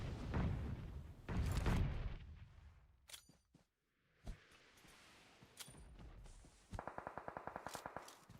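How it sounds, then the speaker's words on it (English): Grenade blasts and gunfire in the PUBG Mobile battle royale during a competitive scrim match: heavy booming explosions, sharp isolated shots, then a fast rhythmic burst of automatic fire near the end. "Another grenade coming from the top."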